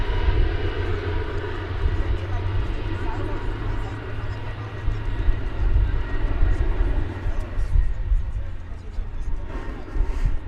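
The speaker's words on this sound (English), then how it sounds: "this is flight 1803 in Airbus A321 off to Phoenix, Arizona" An Airbus A321 jet, flight 1803 bound for Phoenix, departs from Dallas Fort Worth airport with a steady low rumbling engine roar that swells slightly and fades, heard from a distance outdoors.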